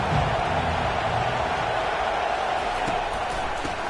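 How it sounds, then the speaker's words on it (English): A football stadium crowd at a Tennessee versus LSU game roars loudly and continuously, a broad wall of sustained noise with no breaks. "This crowd bringing an ear-splitting welcome to their visitors."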